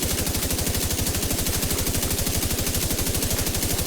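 A named automatic weapon in The Division 2 fires one unbroken, rapid, evenly spaced stream of shots, loud and close for nearly four seconds.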